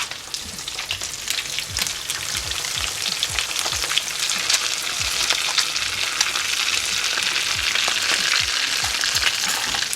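A whole mangrove snapper fries in hot oil, giving a dense, steady crackling sizzle with constant fine popping that carries on loud and unbroken throughout.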